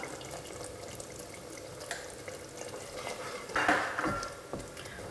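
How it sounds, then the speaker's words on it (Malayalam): Dhaba-style paneer masala curry stirred while it simmers in the pan, a soft continuous bubbling and sizzle with scraping spoon strokes and a louder stirring burst near the end, close and without speech. "ഇനി നന്നായിട്ടൊന്ന് മിക്സ് ചെയ്ത് ഒന്നും കൂടെ നന്നായിട്ട് ഇതൊന്ന് തിളച്ച് കുറുകട്ടെ"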